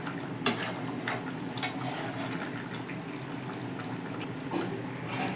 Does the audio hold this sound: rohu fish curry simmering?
yes